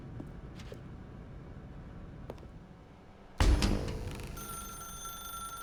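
A telephone rings in The Stanley Parable video game, a sudden loud electronic ring bursting in after quiet ambience and a few faint ticks, then sustaining with a tonal hum.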